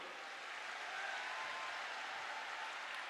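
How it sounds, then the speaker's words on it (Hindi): A crowd at a religious gathering applauds to welcome the saints. Steady, distant applause fills the whole stretch at low, even volume, with no voices over it. "एक बार जोरदार ताली बजाकर सब संतों का स्वागत करो"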